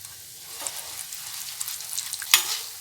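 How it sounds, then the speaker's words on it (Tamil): Flattened rice (aval) frying in hot oil, a soft steady sizzle and crackle rising after a quiet start, with one sharp pop or clink near the end, close and fairly quiet. "இப்போ நம்ம அவல் வறுத்து எடுத்துக்கிறோம்"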